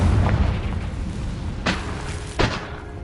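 Confringo blasting spell explosions in a Harry Potter video game: two loud, sharp booming bursts about a second apart, over a rumbling background.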